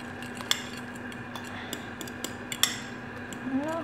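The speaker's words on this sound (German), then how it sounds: "nochmal kurz umrühren" A spoon stirring scrambled eggs in a bowl during microwave cooking, giving a few sharp clinks against the dish over a quiet, steady hum.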